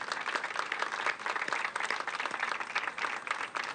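Audience applause at a public event, steady dense clapping throughout at moderate distance, fairly faint and without pause, a few sharper claps standing out.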